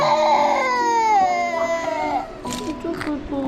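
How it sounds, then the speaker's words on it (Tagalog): A baby cries loudly up close during a first haircut, a long wailing sob that falls in pitch, followed by shorter whimpering cries. "Bakit nag-iyak ang baby?"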